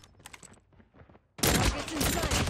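An M4 rifle fires in a video game. After a quiet stretch of faint clicks, a loud, dense, sustained burst of automatic fire starts about halfway through and keeps going to the end.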